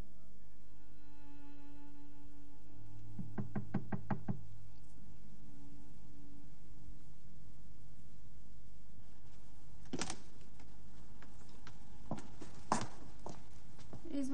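A few sharp knocks on a door land late in the clip, spaced irregularly and fairly crisp, after a quieter stretch that holds a soft tonal passage.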